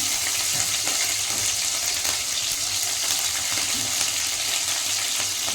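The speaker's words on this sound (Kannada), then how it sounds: "ಹಸಿಮೆಣಸಿನ್ಕಾಯಿ ಚೆನ್ನಾಗಿ ಫ್ರೈ ಆಗಲಿ" Green chillies fry in a hot pan with curry leaves already in it, a steady close sizzle with occasional stirring scrapes throughout, and no talk over it.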